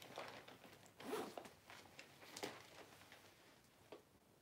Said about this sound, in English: Zip top closure.